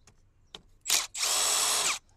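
A power driver with a Torx T30 bit unscrewing a steering wheel screw on a Perodua Myvi, a short whir followed by a longer steady high-pitched run, close and loud.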